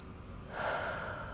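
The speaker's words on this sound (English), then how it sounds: "Continue to breathe in and out." A single slow, close breath drawn in and let out, soft and airy, heard alone against a quiet background.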